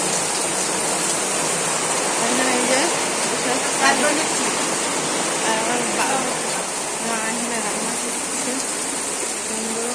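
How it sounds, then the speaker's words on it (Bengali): Heavy rain pours outside a home in a steady, dense wash of noise that runs throughout, with someone speaking quietly over it. "তার মধ্যে দেখো শুরু হয়ে গেছে পুরো বৃষ্টি"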